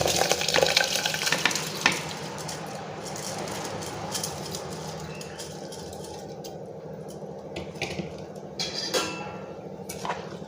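Rice tipped into a pot of boiling water while making pulao, then stirred, giving a steady bubbling, watery rush with scraping stir sounds over about ten seconds and no talk.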